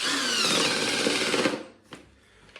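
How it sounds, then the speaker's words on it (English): An impact driver drives screws into the hinges of a heritage cloakroom fitting: a loud, dense whirring burst for about a second and a half, then it stops and a couple of light knocks follow nearby. "Probably don't use an impact driver unless you know what you're doing, like me"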